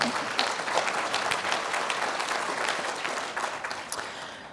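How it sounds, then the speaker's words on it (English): Audience applause in a conference plenary hall, a dense patter of clapping that holds steady and then gradually thins and fades toward the end. "I think that deserves applause, right?"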